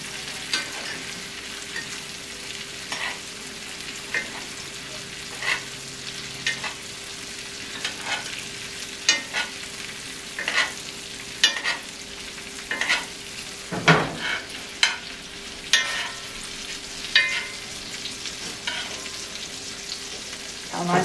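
Butter browns in a frying pan for steak with a continuous close sizzle, while repeated scraping stirs and clatters of a utensil against the pan break in at irregular intervals throughout; no one talks.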